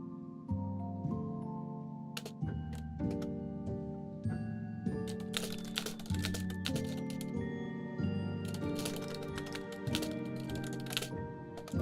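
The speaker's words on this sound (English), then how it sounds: "Typing ASMR." Computer keyboard typing plays as ASMR over a continuous background of layered melodic tones, with scattered clicky keystroke bursts that grow busier through the middle and continue to the end.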